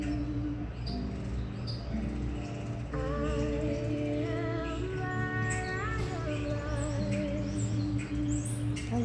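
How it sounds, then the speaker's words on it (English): Birds chirp and sing outdoors in a park, with repeated short tweets and rising whistled calls over a steady, fairly loud hum of ambient background noise. "we can still hear the birds"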